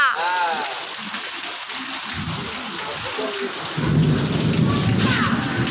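Thunder rumbles over steady first rain of the season pattering on surfaces, the downpour thickening in the second half, a broad continuous wash of sound.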